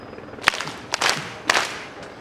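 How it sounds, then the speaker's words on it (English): Loud bangs on a door at a protest outside Parliament on Extinction Rebellion's first day, with a crowd clapping back in unison, three sharp hits about half a second apart, each followed by a burst of applause and cheering. "Every time I bang on the door, like this, I want you to clap your hands."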